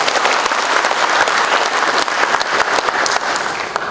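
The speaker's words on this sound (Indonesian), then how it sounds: "Tepuk tangan untuk seluruh warga Jawa" Crowd applause at a Halal Bihalal gathering in a Batam hotel, loud sustained clapping from many hands with no pause throughout.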